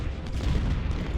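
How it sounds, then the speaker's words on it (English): Cannon artillery fire in the Ultimate General: Civil War video game at the Battle of Gaines' Mill, heard as a brief loud rumbling boom with low, heavy reverberation and no voices. "These cannons are just doing an amazing job."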